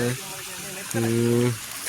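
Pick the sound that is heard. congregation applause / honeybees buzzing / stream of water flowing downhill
stream of water flowing downhill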